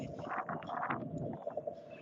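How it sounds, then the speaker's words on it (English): Wind buffets a microphone outdoors in South Jersey, with gusty rumbling thumps and uneven bursts of low noise that come and go over a couple of seconds. "it's very windy out here in South Jersey"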